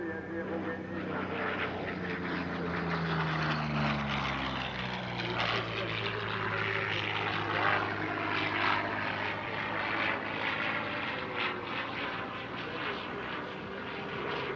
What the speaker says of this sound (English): Christopher Prevost in the P-40N Warhawk with this lyrical solo display